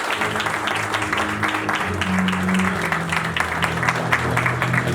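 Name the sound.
applause after wedding declaration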